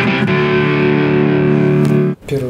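Electric tine piano overdriven through a guitar combo amplifier, a dense, distorted sustained chord ringing loud and close, briefly cut off near the end before another note starts.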